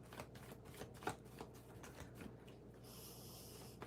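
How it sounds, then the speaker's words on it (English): Deck of tarot cards being shuffled indoors, a soft, quiet run of rapid riffling and sliding flicks lasting several seconds with no voices. "I have to shuffle the cards a little bit more."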